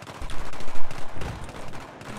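Rapid gunfire in the shooter game Battlefield 3, a burst of several close, loud shots with dense low thumps and crackle, one especially heavy report near the middle.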